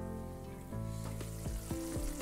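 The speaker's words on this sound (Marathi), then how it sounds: "इथे मी झाकण ठेवते आणि 2 मिनिट वाफ काढून घेते" A pan of dahi aloo, potato curry in yogurt gravy, steams under a lid with a quiet, steady sizzle and soft bubbling pops. No one talks.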